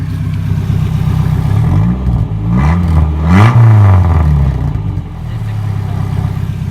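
A 1996 Chevy Cavalier with its exhaust removed revs hard nearby, the raw, loud engine note climbing and falling through several blips before settling back to a rough idle.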